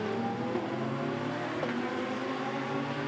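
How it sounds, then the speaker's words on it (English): A damaged BMW race car at a Shanghai eight-hour race, its engine giving a steady, rough, droning roar with continuous broadband noise and no clear gear changes. "That is a very ill-sounding BMW indeed."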